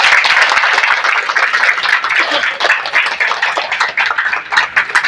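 A crowd gathered to celebrate a yoga class's birthday claps loudly and steadily, a dense sustained round of applause heard from nearby.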